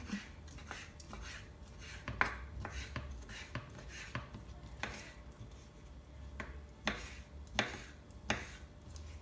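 A knife cutting a peeled orange into small pieces on a board, a close series of crisp irregular chops and taps, some louder strikes among quieter slices, with no talking.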